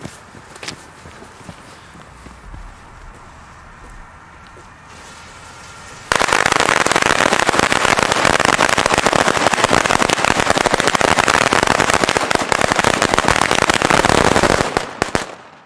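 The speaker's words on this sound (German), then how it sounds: "wenn Böllerketten endlich mal Blitz enthalten, macht es auch mal wieder Spaß, sie zu zünden" An Iskra Ogon Smoka 20.000 F3 firecracker chain with flash charges goes off: after a quiet stretch of faint outdoor background, a loud, dense, unbroken rattle of rapid crackling bangs runs for about nine seconds before cutting off.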